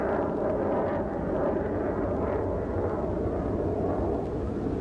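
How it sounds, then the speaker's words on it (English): Several helicopters flying overhead in lower Manhattan a few blocks from the World Trade Center site, a continuous loud, deep rotor rumble filling the air without pause and with no talking. "A number of helicopters overhead right now"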